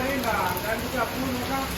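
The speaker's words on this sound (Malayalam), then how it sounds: "നല്ല മഴയാണ്." Heavy rain pours steadily onto surfaces as a dense, continuous hiss, with a person talking over it.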